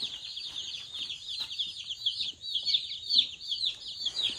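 Meat bird chicks newly arrived from Texas cheep and chirp continuously in a lively close-up chorus of overlapping high peeps.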